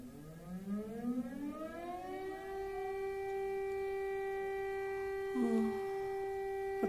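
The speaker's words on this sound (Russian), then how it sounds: "Сирена. С ночи не было." An air raid siren winds up from a low moan into a steady, loud wail that holds for several seconds, with a brief faint voice near the end.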